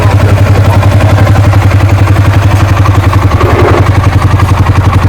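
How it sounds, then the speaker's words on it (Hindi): An engine runs steadily at idle close by, a loud, even low chugging pulse with mechanical clatter and no voices. "ये आपका इंजन है, आप साउंड देख रहे होंगे, बढ़िया करके साउंड आ रही है"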